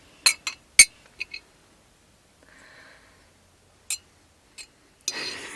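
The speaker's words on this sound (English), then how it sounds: "getting the last drops out of the glass jars because you can never get all of it" A utensil clinks and scrapes inside glass jars to get out the last drops, giving a few sharp, close clinks with quiet gaps and a short rougher scrape near the end.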